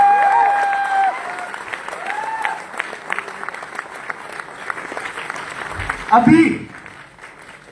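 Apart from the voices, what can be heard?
audience applause at a seminar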